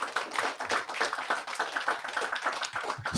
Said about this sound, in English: Y'all can start clapping for these sisters